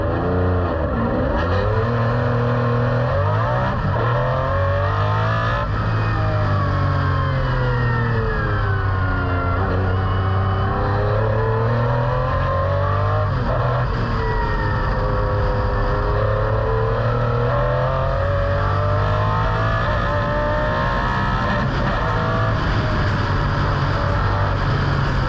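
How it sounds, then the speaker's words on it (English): On board a McLaren F1 GTR racing car with its V12 engine at Goodwood, a loud, close, continuous engine wail that rises and falls through repeated gear changes and acceleration, dropping on the lift-offs, with no talk over it. "let's take a ride with him on board and listen to that glorious V12 engine"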